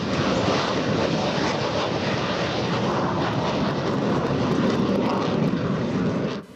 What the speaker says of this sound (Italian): L'AMX si alza in volo per l'ultima volta.